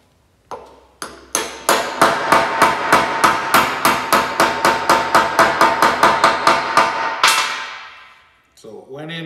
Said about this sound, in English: just using a real junky body hammer block of wood so I don't damage anything